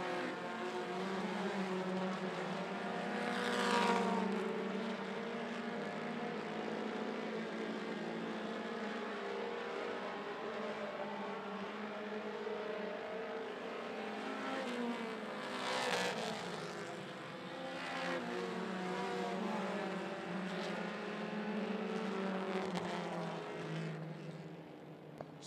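Mini stock race cars run laps at 411 Motor Speedway, their engines droning steadily and close, with two louder surges as cars pass by near the 4- and 16-second marks.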